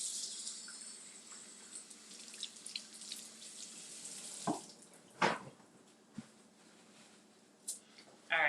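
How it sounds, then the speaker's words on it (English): Berries rinsed in a bowl under a running kitchen tap, a soft steady water hiss with scattered splashes and clinks, fairly faint and heard alone. "And I'm gonna rinse these off."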